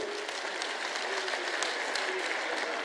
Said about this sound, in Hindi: एक बार सभी तालियां बजा के स्वागत करेंगे